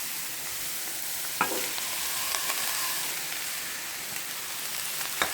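Cooked rice being stir-fried with vegetables in a pan for Indian-style vegetable fried rice, a soft continuous sizzle with a couple of sharper scrape or clink accents.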